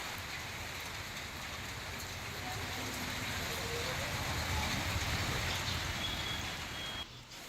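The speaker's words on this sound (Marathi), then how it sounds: "वर्धा जिल्ह्यात पहाटेपासून मुसळधार पाऊस पडतोय" Steady heavy monsoon rain in Wardha district, Maharashtra, hisses continuously at a moderate, even level, with a brief dip near the end.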